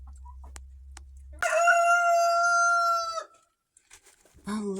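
A rooster crows once nearby, a loud drawn-out cock-a-doodle-doo after a quiet low hum, followed by a short burst of clucking.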